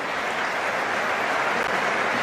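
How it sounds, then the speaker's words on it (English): Stadium crowd at Stamford Bridge during a Chelsea versus AC Milan friendly football match, a dense, steady roar of applause and crowd noise filling the stands. "String of applause around Stamford Bridge for that Cole Palmer pass."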